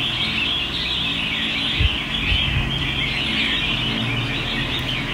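An energetic pet songbird trills and chirps without pause, close to the microphone, with a couple of brief low thumps from the cage partway through.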